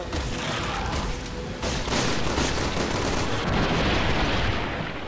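Sustained machine gun fire in a video game, a dense loud stream of rapid shots and bursts with brief gaps and booming impacts, continuing for several seconds without talk.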